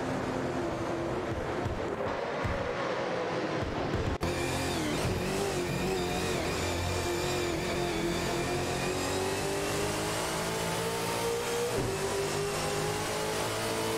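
Ford Falcon FG and Nissan Altima race cars in a racing video game roar steadily with sustained engine drone and rising revs, a continuous loud mechanical hum across the whole stretch without any voices.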